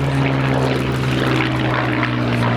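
A Supermarine Spitfire Mk.IX fitted with a Merlin 66 engine and two-stage supercharger drones steadily at an air show, a loud continuous propeller roar with a strong low hum, close and unbroken throughout.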